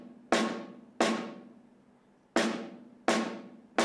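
A beatboxer vocally imitates a snare drum, producing four punchy, noisy cracks with a short tonal body and a quick fading tail, spaced irregularly and heard close and alone.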